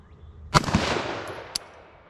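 An IWI Tavor X95 rifle fires one loud, sharp shot outdoors, with a softer echo trailing after it, and a second, quieter crack follows about a second later.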